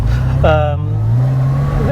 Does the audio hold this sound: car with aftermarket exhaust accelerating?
yes